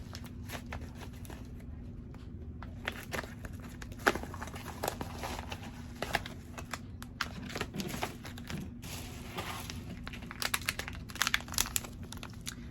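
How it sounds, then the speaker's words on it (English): A shipping package being cut open and unwrapped, with scattered crinkling and tearing of plastic wrap in quick irregular bursts, fairly close and quiet against a low background hum. "Oh, I didn't even cut it open."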